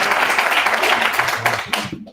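A class audience applauds a startup team called up to pitch at a campus competition, a short burst of dense clapping that fades out within about two seconds.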